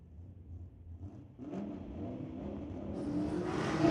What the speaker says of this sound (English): The wonderful GTT R34 in the TCR lane up against the Rowdy Mustang